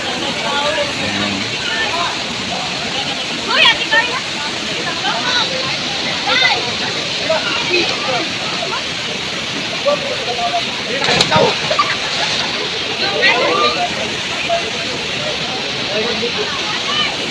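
Tumipi Falls in Puting Bato, Cabadbaran City, Agusan del Norte roars as a steady broadband rush of falling water, with people talking intermittently over the continuous wash.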